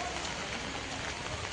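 Steady rain falls on an outdoor cattle market with empty stalls, a soft, even hiss of drops on surfaces that continues without a break.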